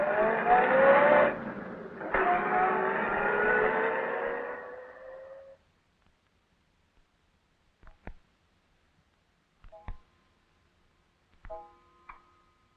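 A car engine in an old 1941 radio drama revs and pulls away, a harmonic whine sweeping upward for several seconds before cutting off, followed by a few sparse faint clicks and taps.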